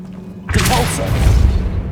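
A Repulso spell blast in Hogwarts Legacy: a sudden heavy boom with a rushing whoosh that bursts in loud and close, then a rumbling, crackling tail that lingers for over a second.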